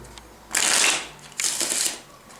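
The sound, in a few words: shuffling playing cards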